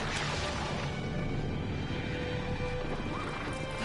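Hooves and a horse's neigh from the game Shadow of the Colossus, a steady clatter of steps over busy game ambience, fairly loud throughout.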